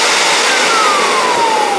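An electric vacuum cleaner motor runs steadily during a bench test after repair, a loud continuous whine with a faint tone slowly falling in pitch, no voices.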